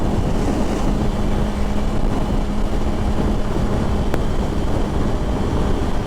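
A Yamaha R1 sport motorcycle at high revs while riding at speed, a steady, dense engine roar mixed with wind rush that keeps on without a break and with no talking.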